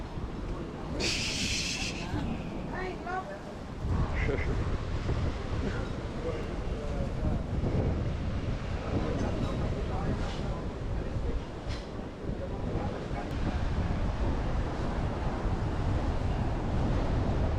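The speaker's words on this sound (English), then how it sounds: "Wow, windy day today." Strong wind buffets the microphone with a constant roar, high-tide waves surging underneath at a beach, and a brief voice near the start.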